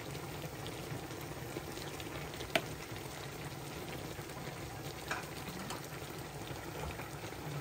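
A pot of bitter melon soup with tofu and scallions coming to a boil on the stove, a faint steady bubbling and hiss with a couple of soft clinks, no talking.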